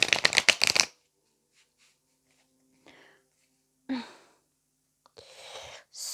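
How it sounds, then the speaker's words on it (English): A quick burst of tarot cards being shuffled, crisp riffling right up front, followed by quiet pauses with soft breaths and small rustles. "I'm shuffling the cards"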